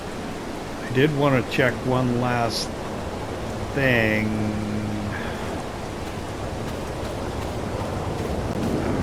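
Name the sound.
rain in video game Farming Simulator 22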